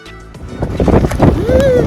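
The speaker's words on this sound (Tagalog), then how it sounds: "Mahangin talaga." Strong gusty wind buffeting the microphone with a low rumble, with voices talking over it and a rising tone near the end.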